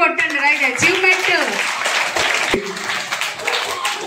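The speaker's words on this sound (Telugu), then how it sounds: "క్లాప్స్ కొట్టండి రైట్," Audience at a school awards ceremony in Bhuvanagiri applauding, dense continuous clapping throughout, mixed with an announcer's voice and crowd chatter.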